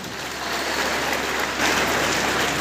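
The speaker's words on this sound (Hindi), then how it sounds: "जी एक बार तालियां हो जाए सभी मिलाकर।" Dense, steady applause from an audience gathered at an outdoor village event, a continuous wash of many hands clapping at once, loud and close, with no voices over it.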